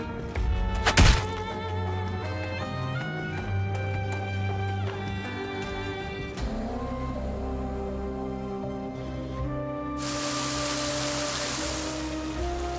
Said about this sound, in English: It's raining. Now I'm all wet.